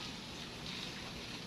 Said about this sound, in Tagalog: Biglang sunod-sunod na naman ang ulan.